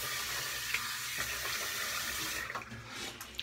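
A tap runs steadily into a sink as water is splashed onto the face before shaving, a close, even rush of flowing water that turns more broken and splashy toward the end.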